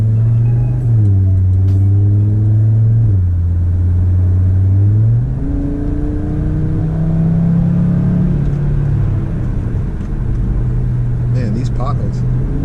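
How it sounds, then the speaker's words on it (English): Audi RS3 five-cylinder engine and exhaust while driving on back roads, a loud steady drone that climbs in pitch as it revs up and shifts, continuous and close throughout with no talking. "Love the sound of this exhaust."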